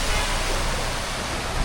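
Heavy rain and floodwater pouring across a street in Hatyai during a flood, a dense, steady, loud wash of water noise with no clear breaks.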